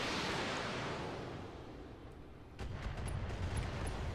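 LRM-10 missile volleys fire at targets in a mech combat video game, giving a dense rolling roar of launches and distant booms, with a fresh surge of blasts and faint crackles toward the end.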